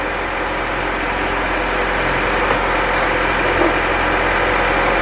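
2000 Honda Civic EX VTEC engine running at a steady idle, a close, continuous hum with a faint rattling texture and no change in pitch.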